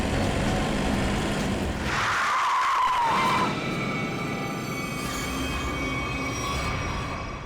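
A car's tyres screech loudly for about a second and a half as it skids to a sudden stop near a woman, over a steady rumble of engine and street noise.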